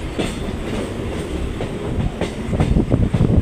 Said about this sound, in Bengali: আরামবাগ স্টেশন থেকে আমাদের ট্রেন ছেড়ে দিয়েছে তার নির্ধারিত সময়ে